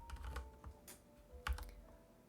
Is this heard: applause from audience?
no